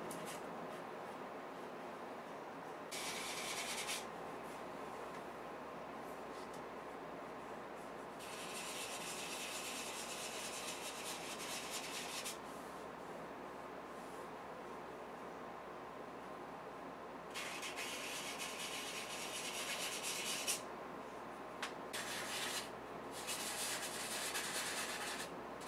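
Hand sanding with 400-grit sandpaper on an LP-style DIY guitar kit body, steady scratchy rubbing strokes in several long bursts separated by quieter pauses, close and fairly soft with no talk.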